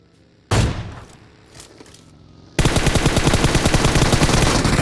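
Rapid automatic gunfire from the mobile battle-royale game PUBG Mobile: one loud shot with a decaying tail, then a few lighter pops, then a sustained loud burst of machine-gun fire that keeps going to the end, with no talk over it.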